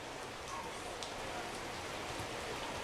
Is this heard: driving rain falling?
yes